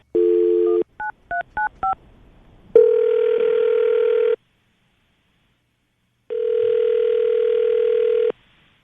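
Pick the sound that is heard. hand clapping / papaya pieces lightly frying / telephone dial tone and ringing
telephone dial tone and ringing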